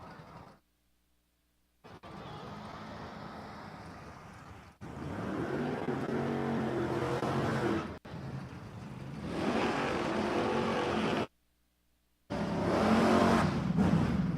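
A Chevrolet Nova and a Corvette race side by side at a drag strip event at Empire Dragway. Their engines give long, loud, roaring runs, broken up by abrupt cuts into silence.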